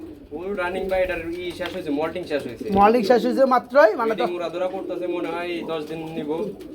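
A pair of pigeons, a black checker male and a dun checker female offered for sale at a market, coo repeatedly and close by in deep, rolling throaty calls, with a voice talking alongside.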